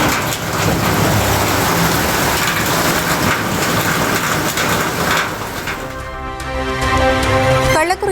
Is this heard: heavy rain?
yes